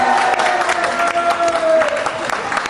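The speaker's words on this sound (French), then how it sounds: "Est-ce qu'on peut l'applaudir?" A studio audience at a French TV interview breaks into loud, sustained applause that fills the room, with a few voices mixed in among the clapping.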